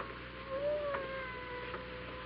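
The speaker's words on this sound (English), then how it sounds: "I hear a cat." A single drawn-out cat meow, rising then falling, heard alone with no talk and with a muffled, narrow-band sound, as a sound effect in an old CBS radio mystery drama.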